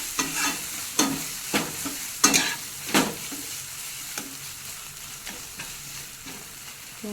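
Masala frying in oil is stirred in a pan for a curry, a soft sizzle under a string of scraping spoon strokes about every half second, close and alone.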